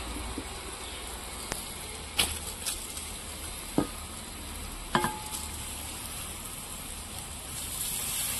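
Drained rice frying with spices for sweetish pulao, several sharp scrapes and clinks of stirring over a steady low sizzle, fairly close, no voices.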